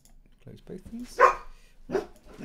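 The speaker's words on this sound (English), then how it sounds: "Apologies for the dog." A dog barks a few times in a nearby room, short sharp barks rising over a man's speech in the foreground.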